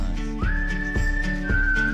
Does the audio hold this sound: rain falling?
no